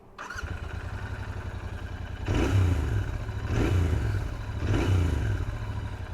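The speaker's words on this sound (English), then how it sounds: "listen to the exhaust note of this bike." A 2021 Royal Enfield Continental GT 650 twin with stock exhaust idles with a deep, steady burble, recorded from inside the helmet, then revs three times in succession, each rise swelling and falling back to idle.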